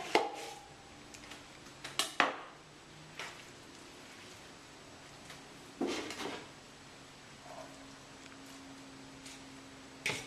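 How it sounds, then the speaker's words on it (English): A knife chops through very long kelp noodles in a kitchen, making a few sharp, quiet taps and cuts scattered among soft background noise. "I'll take a knife and cut it because the kelp noodles are so very, very, very long."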